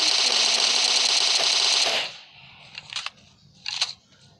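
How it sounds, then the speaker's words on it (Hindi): Gunfire in a video game: a rapid, loud burst of automatic fire for about two seconds stops abruptly, followed by two brief, fainter distant rattles. "वो आगे फायर हो रही है"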